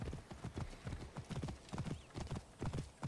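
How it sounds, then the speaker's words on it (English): A horse gallops in the Assassin's Creed Origins video game, its hooves striking in a fast, steady clip-clop rhythm of repeated beats, moderately close and continuous throughout. "You are the worst horse I've ever had."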